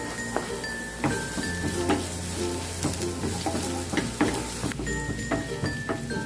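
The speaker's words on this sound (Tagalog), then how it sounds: "Pag medyo mainit na, isunod natin ang ating bawang" Garlic sizzles steadily in hot cooking oil for pork adobo, a continuous crackling fry with a spatula stirring and occasional light clinks of the pan.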